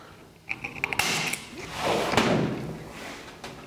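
Sheet metal being notched by hand for a rectangular duct, a few quick clipped snips and clicks followed by a longer scraping, rustling sweep of metal, close and moderately loud.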